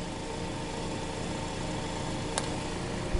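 A homemade single phase generator runs on 9 volt DC, giving a continuous, steady mechanical hum and whirr with fine vibration throughout, broken by one brief click near the end.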